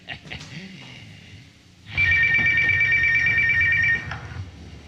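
A telephone rings in a steady electronic trill for about two seconds during a stage comedy show, loud and clear over a low room murmur. Brief voices are heard just before it starts.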